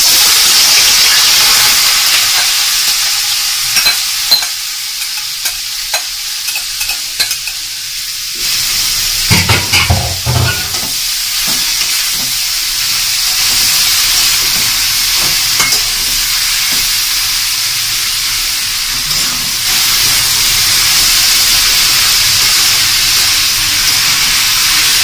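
Bitter gourd frying in about half a cup of hot oil, a steady loud sizzle and hiss with scraping stirring strokes heard throughout, no talking.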